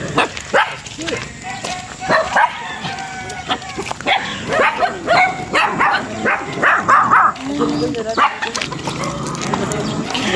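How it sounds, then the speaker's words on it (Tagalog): Several dogs on a small farm bark and yip in short bursts throughout, some near and some farther off, while people talk over them. "Ang daming dog."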